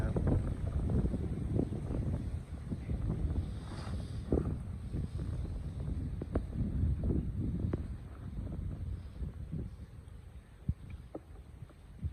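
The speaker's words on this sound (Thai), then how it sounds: "ดูใบไม้ปลิวก็รู้เลยว่าลมแรงมาก" Strong wind sweeps across a mountain road and blows through the leaves, a steady gusty roar with rustling bursts that holds fairly loud for about twelve seconds.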